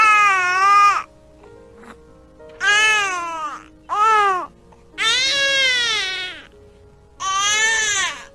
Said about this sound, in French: Notre son qui est utilisé par les bébés est O, qui signifie que le bébé a sommeil.